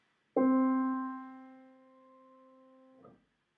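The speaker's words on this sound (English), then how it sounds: "Middle C is to the left of 2 black keys nearest the middle of the piano and sounds like this." A single sustained piano note, middle C, struck once and left ringing steadily for about three seconds before fading out.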